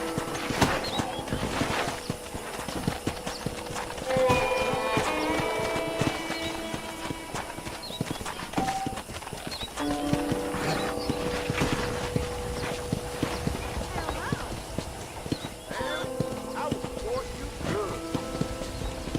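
Horse hoofbeats from Red Dead Redemption on PS3 clip-clop steadily at a walking pace, with occasional whinnies, under game music and a character's voice talking throughout.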